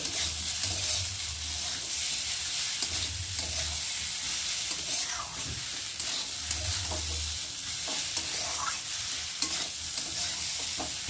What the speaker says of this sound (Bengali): ডালটাকে ভালো করে একটু কষি নেবো